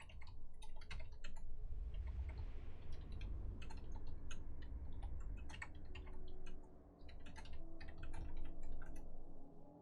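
Computer keyboard typing clatters in quick, dense bursts of keystrokes with brief pauses, close and fairly quiet over a low background hum.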